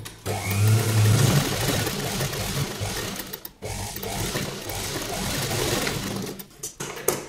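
A sewing machine stitches kurta fabric over a paper canvas, running as a steady, close mechanical whir for several seconds, with a brief pause midway and a few stops near the end.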